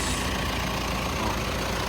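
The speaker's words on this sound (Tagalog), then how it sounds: "Ganda ng timing ng makina yun mga boss." A Mitsubishi Montero Sport engine idles close by, a steady, even low rumble with no change in pitch and no voices.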